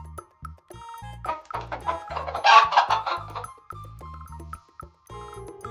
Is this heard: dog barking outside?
no